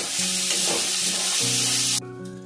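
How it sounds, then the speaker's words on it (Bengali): Kashmiri red chili powder masala sizzles hard in hot oil as it is stir-fried, a loud, steady frying hiss with scraping stirs, near and without voices, dropping sharply near the end. "এবার আমি কাশ্মীরি রেড চিলি পাউডার মশলাটা আমি খুব ভালোভাবে কষিয়ে নিলাম মশলা দিয়ে তেল সেপারেট হচ্ছে"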